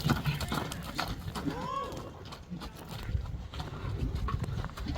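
A horse moves nearby with clip-clop hoof sounds and a brief whinny-like call, mixed with rustling and people talking in Kyrgyz in the background.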